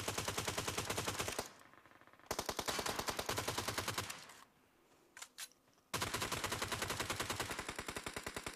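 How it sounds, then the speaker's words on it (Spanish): Rapid automatic gunfire from enemies in the mobile battle royale game PUBG Mobile, loud bursts of fast repeated shots broken by two short quiet gaps with a few scattered faint pops, then a long sustained volley. "¿por qué me están disparando enemigos?"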